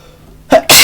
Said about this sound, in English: that was a pretty rude sneeze on my part